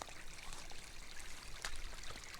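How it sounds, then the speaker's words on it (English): Water flowing in a small woodland brook, a steady broadband rush and trickle running throughout at a moderate, even level, with a slightly brighter splash near the middle. "crossing the gill or brook"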